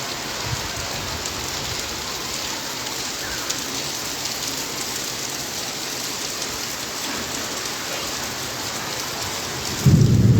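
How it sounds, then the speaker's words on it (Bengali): Heavy rain pounds down on Sandwip in a dense, steady hiss, and a deep rumble of thunder swells in near the end. "বৃষ্টির সাথে বজ্রপাতও হচ্ছে।"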